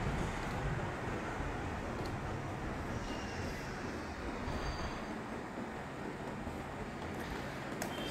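Gujarat Express train in MSTS game braking into Surat Junction, a steady loud rolling rumble of wheels on rails with faint high squeals of brakes and wheels, continuous throughout.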